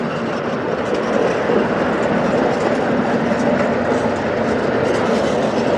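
A small ride-on miniature train carries passengers through open rice fields, giving a steady, close rolling rumble with continuous rail clatter throughout and no voices.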